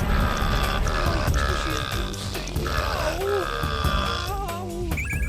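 Cartoonish fart boost effect from a Shrek video game, a busy run of squelchy, croaking blasts and warbling tones layered over game music, loud and continuous throughout.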